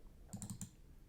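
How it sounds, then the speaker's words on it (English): A few quick arrow-key presses on a computer keyboard, four close clicks in a short burst, near and quiet, with no talk. "I'm gonna move this using arrow on the keyboard."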